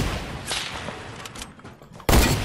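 Gunfire in a Fortnite match: bursts of shots go off in close succession, then a louder, sharper burst near the end.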